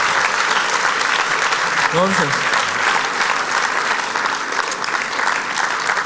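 Loud, sustained audience applause fills a stage show on an Armenian women's club program, steady and dense throughout, with a voice briefly speaking over it near the middle.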